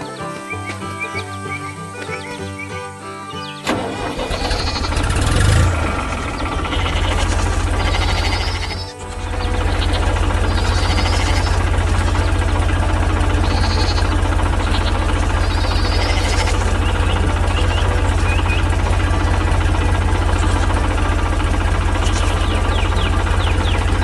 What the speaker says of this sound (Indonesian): Truk hijau dengan trailer melaju di jalan, di balik pemandangan gunung dan hutan yang hijau.